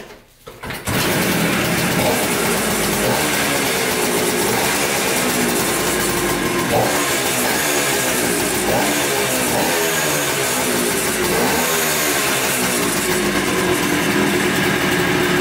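A KTM 500 motorcycle engine, kick-started, catches at once and settles into a loud, close, steady idle with a rapid rhythmic thumping that continues for the rest of the clip.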